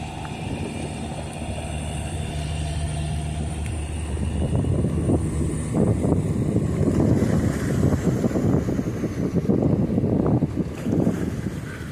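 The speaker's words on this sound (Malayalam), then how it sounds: "ഒരു ബോട്ട് അടുത്ത വള്ളത്തിനെ കെട്ടിവലിച്ചുകൊണ്ടാണ് പോകുന്നത്." A boat towing another fishing boat off Cheriazheekal beach, a steady engine drone blending with strong wind buffeting the microphone and waves rising louder in the second half.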